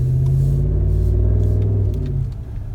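A 2017 Ram 1500 Big Horn pickup revs through a direct-replacement exhaust. The note is a loud, smooth, deep rumble held steady, then eases off near the end, without rasp or pops.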